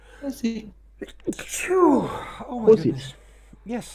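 A single loud sneeze with a sharp intake of breath bursts out in the middle of nearby conversation, and people talk immediately before and after it.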